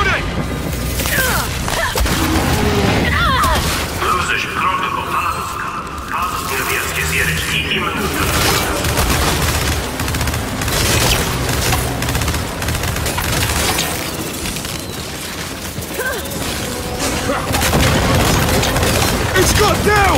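Dense Gears 5 gunfire pours at a creature in a continuous loud barrage of rapid shots and booms, with shouting voices mixed in throughout.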